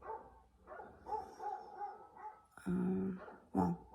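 A dog barks a few times nearby, sharp woofs separated by softer whines and yips, with faint background noise.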